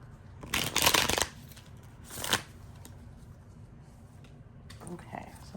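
A Light Seers Tarot card deck is shuffled in two quick riffling bursts, close and crisp, followed by quieter handling sounds while a person speaks softly in the background.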